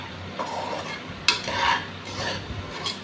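Moong dal roasting in a pan over a low flame, with soft scraping stirs and light sizzling in a few short bursts, close and fairly quiet.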